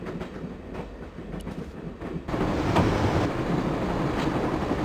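A moving train rumbles steadily in the Broken Sword video game, a continuous dense roar with faint rhythmic clatter that grows louder partway through and then holds, with no voices.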